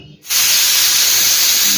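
A loud, sharp jet of hissing steam bursts out and holds steady as a pressure cooker releases its whistle while cooking sweet pongal, close and continuous.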